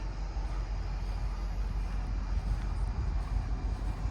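A big freight locomotive on the Route 66 corridor in Oklahoma rumbles past, a steady, loud low-frequency drone with continuous roar and no clear breaks.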